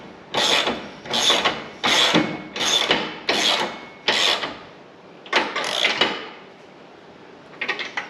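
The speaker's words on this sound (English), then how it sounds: "Just going to use a ratchet here just to get it snug." A hand ratchet snugs a bolt on a fabrication part, giving a run of about six even, rhythmic ratcheting bursts, close and loud, followed by a few shorter clicking strokes after a brief pause.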